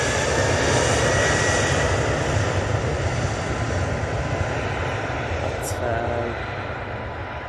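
Lufthansa Boeing 787 Dreamliner in the new Centennial livery at Manchester Airport, its jet engines giving a loud, steady broadband roar that holds throughout and eases slightly near the end, with a voice talking over it.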